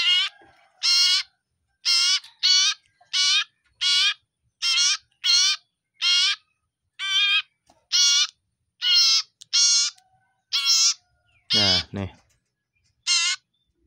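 A sirtu (cipoh) bird calls about fourteen times in a steady, evenly spaced series of short, bright, warbling notes, close and loud, with one lower, downward-sliding call near the end and silence between calls.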